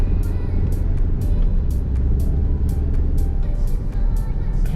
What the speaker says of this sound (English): Wow, this car runs so much different.